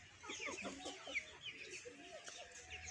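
Chickens cluck repeatedly nearby at a home where pigeons are also kept, with steady overlapping bird calls throughout and no clear talk.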